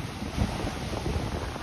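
Strong wind blows across Maroubra beach in Australia, a steady rushing roar with gusty buffeting on the microphone over distant surf, no talking.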